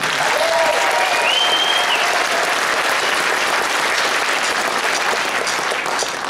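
Concert audience gives the band a sustained round of applause, a loud, even roar of clapping that holds steady throughout with a few faint whistles.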